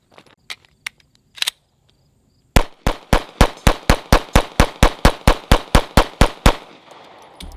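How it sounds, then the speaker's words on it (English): Gunfire in the distance: a few scattered sharp cracks, then a long rapid run of about twenty evenly spaced shots, crisp and fairly loud, with no voices. "Shooting off in the distance."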